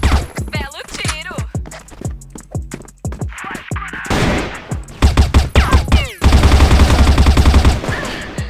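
Bursts of gunfire from a shooting video game, with rapid automatic fire, single shots and clattering effects following one another loudly. Near the end a dense sustained barrage plays.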